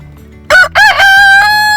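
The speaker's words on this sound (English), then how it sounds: "You gonna crow again?" A chicken crows once, close and loud, giving a sharp broken start and then a long, held, strained final note.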